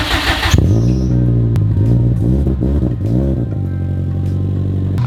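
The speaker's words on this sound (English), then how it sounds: "Let me give you a proper cold start." A Subaru STI engine cold-starts with a sharp burst, then revs up and down several times in a throaty, rising and falling roar through an aftermarket exhaust, loud and close.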